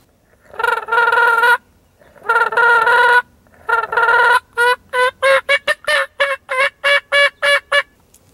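A turkey call imitates gobbling: three long rattling yelps, then a rapid series of short, choppy gurgling notes, loud and close with no talking.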